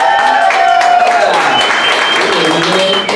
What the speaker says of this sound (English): Round of applause for Phil.